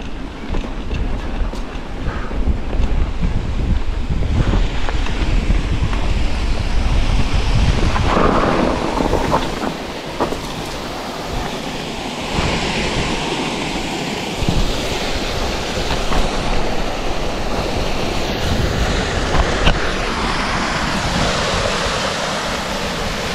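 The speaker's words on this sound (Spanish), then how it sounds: "Esa es la cascada" Steady, loud broadband roar of a waterfall along a hiking route of sculptures near Bogarra, continuous and dense throughout with slight swells, no voices evident.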